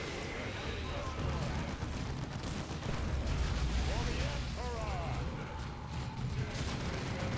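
Rocket launcher blasts in Dawn of War 2 during a Tyranid assault mission form a dense, rolling roar of battle explosions and booming impacts that continue without pause.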